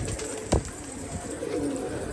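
Pigeons coo softly close by, with a low murmuring call and a single brief knock against quiet background noise.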